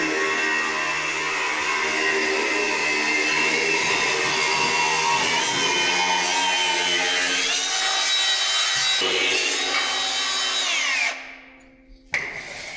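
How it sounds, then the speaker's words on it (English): A power tool grinding through the excess threaded ends of steel anchor bolts while building an overhead shop crane, a loud, steady high-pitched whine and rasp that holds for about eleven seconds, then winds down and cuts off. "Looks like we're cutting off the excess thread on our anchor bolts now."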